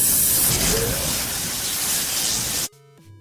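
Steady, loud hiss of an aerosol spray can running for over two seconds, then cutting off abruptly to quiet background hum.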